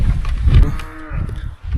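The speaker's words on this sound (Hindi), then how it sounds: "इस तरफ हैं घोड़े और इस तरफ गाय वगैरह।" A cow lets out a loud, close, drawn-out moo among horses and cattle near the Bijli Mahadev temple at the top of a mountain.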